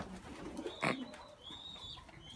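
Pigeons cooing, with one soft coo and rustle near the start amid faint bird chirps, and higher whistling calls later over a quiet background.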